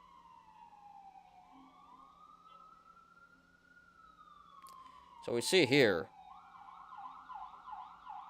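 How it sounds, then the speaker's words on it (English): An emergency vehicle siren wails with a slow rising and falling pitch, then switches to a loud rapid yelp as it passes close, while someone speaks briefly. "Sorry about the sirens, guys."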